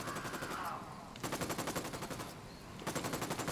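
Rapid machine gun fire in Ghost Recon Wildlands rattles in two close, fast bursts split by a short pause, with a faint tonal sound fading at the start.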